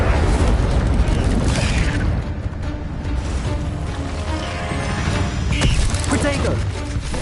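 Casting the Incendio fire spell in the game Hogwarts Legacy sets off a dense, loud burst of booming, crackling fire and impact noise that rolls on for several seconds.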